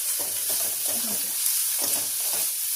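Spices frying in a hot pan before paneer is added, a steady close sizzle with intermittent stirring scrapes throughout, no talking.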